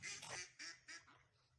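Ducks at a pond quack in three quick bursts, the first doubled, close and fairly loud, then fade into quiet with no talk.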